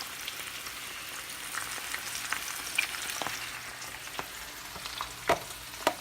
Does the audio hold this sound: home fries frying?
yes